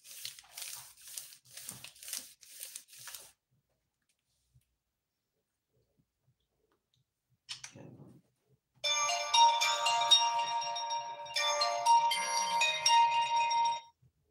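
A phone ringtone plays loudly for several seconds with a brief break midway, preceded by soft crinkling handling noises and a quiet pause.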